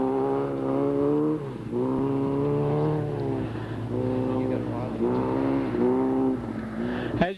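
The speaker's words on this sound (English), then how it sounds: "On the hill right now we have Marty Allman from Great Falls, Montana, race prepared MG Midget" A race-prepared MG Midget climbs a hill at a 1978 hill climb event, its engine revving up and dropping repeatedly through the gears at a moderate distance. A commentator talks over the engine.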